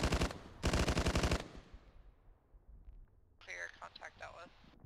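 Bursts of automatic gunfire in the military video game Arma, two loud sustained volleys near the start, then a quieter stretch with a distant radio voice speaking.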